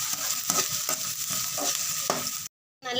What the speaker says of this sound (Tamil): வெங்காயம் போட்டு ஒரு வதக்கணும். கிளறு போட்டு ஒரு கிளறு விடணும்